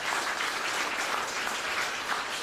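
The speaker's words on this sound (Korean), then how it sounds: "다시 한번 박수 부탁드리겠습니다." A seated audience at a literary café staged reading applauds, a dense, even roar of many hands clapping that holds steady throughout, with no voices on top.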